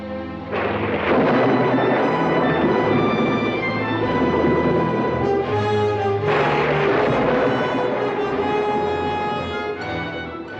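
Heavy thunder rolls through a storm scene in the 1964 film Marnie, loud and sustained with deep rumbling swells and a fresh crash about six seconds in, no voices over it.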